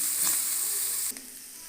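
Capsicum and carrots fry in hot oil for a Chinese-style vegetable pulao, giving a steady close sizzle that drops slightly in level near the end, with no talking.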